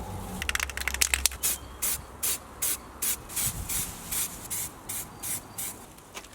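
Spray can applying gloss black paint to small parts: a quick cluster of short hissing bursts, then about nine evenly spaced, close spray blasts with brief pauses between them.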